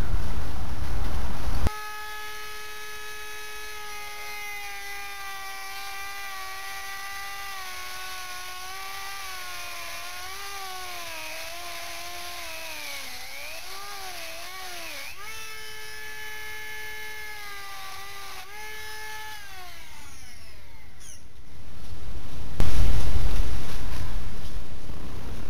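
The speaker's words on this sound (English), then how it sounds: "I'm actually going to use a Dremel tool with a bit on it that is made to cut through" A Dremel rotary tool with a cutting bit grinds through steel, a loud high whine that starts abruptly, wavers in pitch as the load changes, then stops, with clunks at either end.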